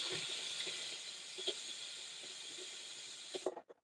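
A pressure cooker cooking rajma on a gas stove releases steam through its whistle in a steady, fairly loud hiss that holds for about three and a half seconds before cutting off abruptly.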